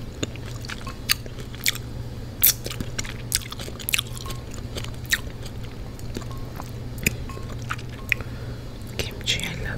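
Close, moist chewing and biting of kimchi, soft squishy crunches repeating steadily over a low hum, with quiet whispering mixed in.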